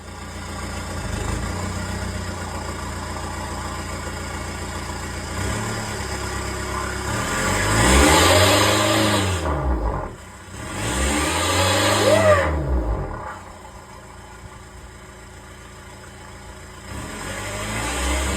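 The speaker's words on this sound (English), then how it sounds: "Started it up with the turbo plumbed in. Made some funny noises." A Volkswagen Touran engine with a faulty turbo idles roughly, then revs twice with a rising and falling whine, before settling back to a lumpy idle.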